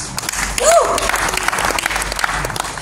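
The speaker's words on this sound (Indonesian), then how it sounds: "Tepuk tangan Tuhan Yesus." A church congregation claps during a worship service. The busy, loud applause runs throughout, with a brief voice rising over it near the start.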